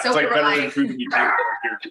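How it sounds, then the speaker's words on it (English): A dog barks and yips in the background of a home party chat, its short bursts partly masked by steady conversation running over them. "sorry about the barking there"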